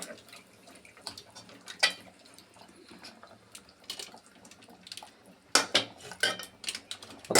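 A spoon stirs chicken curry with tomato in a metal pot, giving scattered scraping and clinking knocks, quiet at first, then a louder cluster of metallic scrapes near the end.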